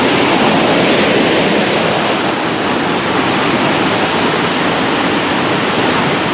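The Ausable River rushes through the Flume gorge at Wilmington, New York, a loud, dense, unbroken roar of water with no voices.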